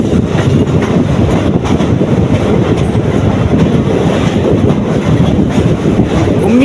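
The Chennai Egmore Express climbs a hill route toward Punalur, pushed by a rear-mounted engine, with a loud, steady rumble and clatter of wheels and coaches close up. Wind buffets the recording throughout, and no one speaks.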